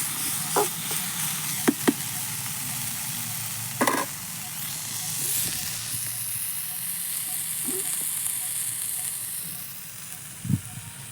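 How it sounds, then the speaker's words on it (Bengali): Bitter gourd and potatoes sauté in a pan over an outdoor clay stove, a steady close sizzle broken by occasional scraping stirs of a spatula, with no talk. "করলা আলুতে আমি লবণ হলুদ দিয়ে দিয়েছি, এটাকে ভালো করে কষিয়ে নেব।"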